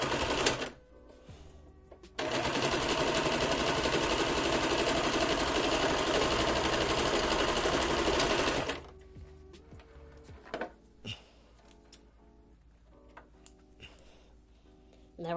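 A sewing machine stitching fabric face masks runs in one fast, loud, continuous burst of several seconds, followed by scattered clicks and handling noises.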